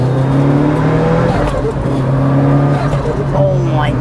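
A Mitsubishi Evo 9 engine pulls hard under boost, a loud steady in-cabin drone with rising harmonics and a shift partway through.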